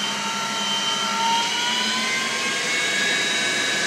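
Harrison 21 x 80 inch CNC lathe spinning up toward high RPM, a steady whining hum with tones that slowly climb in pitch, close and continuous with no talk.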